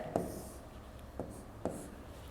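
A pen scratches out numbers on paper during a second-grade addition lesson, short scribbling strokes with three distinct taps, close and quiet, with no voice over them.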